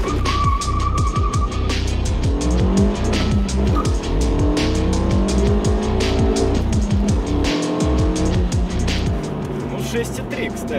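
A Renault Megane RS Cup revs hard and accelerates from 0 to 100 km/h through several gear changes, engine pitch climbing and dropping with each shift, tires squealing at launch, loud and close.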